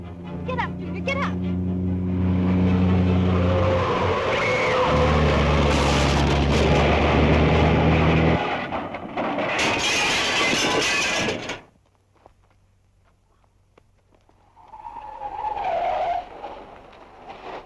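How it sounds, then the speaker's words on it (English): A car skidding and crashing through a fence and down a cliff in a 1937 serial: loud engine roar and tire squeal, a burst of crashing noise, then a short lull before more commotion. "a car just crashed down through that fence, went down the cliff"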